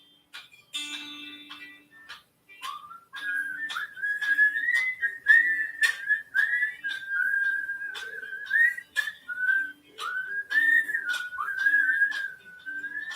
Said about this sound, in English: how many times do you hear you whistling in unison?